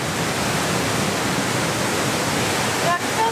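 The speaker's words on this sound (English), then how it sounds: "Let's go see the waterfall." A 66-foot (15-metre) waterfall heard up close, a loud, unbroken roar of rushing water that fills the whole stretch evenly, with faint brief tones near the end.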